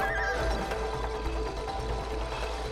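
A horse in the game It Takes Two lets out a loud, sustained whinny over a dense, busy game soundtrack, heard up close.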